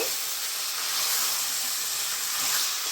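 About 600 grams of mutton sizzles as it is added to frying onions in a pan for a mutton capsicum curry: a loud, steady hiss that holds for a few seconds with slight swells.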